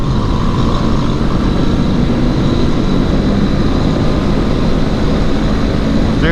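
A KTM 390 Adventure and a Honda CB500X accelerating uphill in fourth gear, loud and close, with a steady continuous engine drone and wind rush throughout and no talking.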